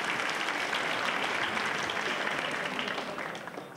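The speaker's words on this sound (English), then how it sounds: "Big applause" Audience applause at the ACM ICPC World Finals 2009 programming contest, a dense, continuous burst of many clapping hands in a large hall, loud and steady before easing slightly at the end.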